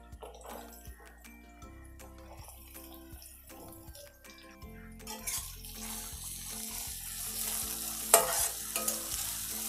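Chopped onion frying in oil with asafoetida in a pan for spicy okra bhaji, stirred with a clattering spoon; a soft sizzle swells louder and denser in the second half, with no talk.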